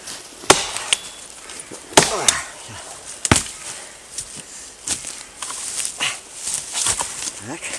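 Wood chopped with an axe: sharp, loud blows land every second or so, with some softer knocks and rustling between strikes.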